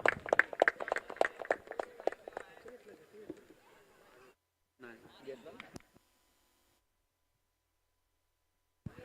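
Applause and clapping from a crowd greeting a cricket player at a prize ceremony of a local tournament, with dense bursts at first that thin out and fade, then stop after a short pause.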